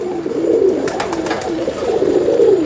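Pigeons cooing on a rooftop loft, soft rolling low coos repeating close by, with a few brief sharper flutters or clicks in the middle.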